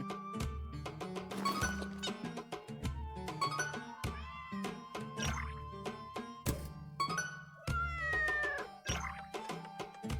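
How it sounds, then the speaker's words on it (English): Kitten in the video game Hidden Cats in Istanbul, a string of loud, close, tonal meows and mews in quick succession, heard alone. "Stealthy kitten."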